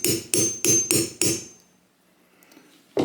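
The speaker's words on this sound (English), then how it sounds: "take a punch and hammer it through" Five sharp, evenly spaced metallic hammer strikes drive a punch through metal on a KitchenAid mixer close by, then a quiet pause before one more blow lands at the end.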